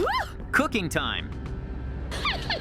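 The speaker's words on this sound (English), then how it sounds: "And that's the dog." A dog in a Minecraft animation lets out a few rising yips and whimpering barks close by, with animated voices talking in between the calls.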